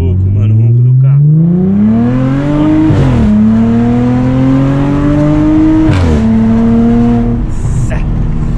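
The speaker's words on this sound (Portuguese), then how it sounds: "Tá muito louco, mano, o ronco do carro." Audi A7 fitted with a straight-pipe exhaust revs hard, its loud, close engine note climbing, dropping briefly, then climbing twice more in a steady rising drone, with someone talking over it.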